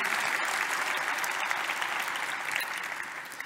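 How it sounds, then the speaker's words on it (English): A conference audience at the Infobip Shift 2021 event breaks into a full round of applause, dense and continuous, fading slightly toward the end. "If we can have a round of applause for them."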